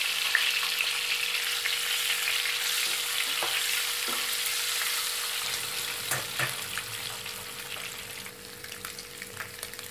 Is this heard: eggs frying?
yes